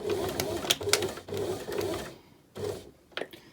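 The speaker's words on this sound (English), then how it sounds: "Position the fabric under the machine as before, and take a couple of stitches to back tack and reinforce." A sewing machine stitches a short back tack in fabric, whirring close and fairly loud in short runs that stop and restart, with a quiet gap and a small click near the end.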